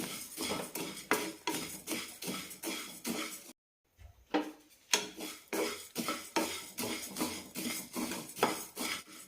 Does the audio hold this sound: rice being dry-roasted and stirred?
yes